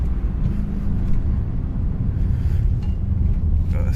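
A Suzuki Alto Works with an F6A engine, aftermarket downpipe and deleted catalytic converter, accelerating on the road in Mexico, heard as a loud steady engine drone from inside the car with wind rush, no talking.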